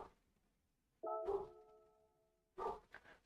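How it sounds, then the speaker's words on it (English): A dog in an apartment barks a few times in short, separate bursts against a quiet background, fairly faint and slightly distant. "My dog's barking because of pest control is here at the apartment."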